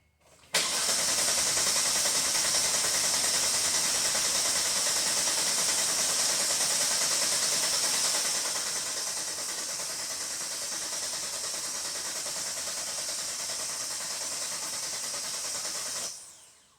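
A 2018 Kia Forte with rough running and timing issues cranks continuously without catching, a steady whirring starter drone that holds for about fifteen seconds, then cuts off.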